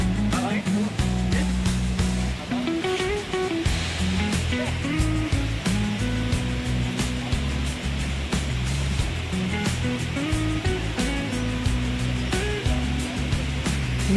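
Bomburu Ella waterfall in Sri Lanka roars as a constant broadband rush of falling water, while a steady musical backing plays over it throughout.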